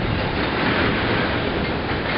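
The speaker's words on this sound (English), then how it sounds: "This is a long train." A long train rolls past close by, a steady, loud broadband rumble and roar that holds level for the whole stretch with no voices over it.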